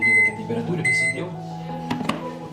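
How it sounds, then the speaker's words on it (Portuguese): A microwave oven hums steadily while warming chocolate at medium power for a few seconds, with a loud, close electrical drone and a couple of brief clicks near the end. "Vou colocar no micro-ondas 5 segundos, temperatura média"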